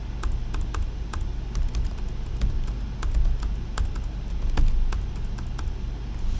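Fingers type on a computer keyboard at close range, a quick, irregular run of sharp key clicks over a low steady hum, with no talking.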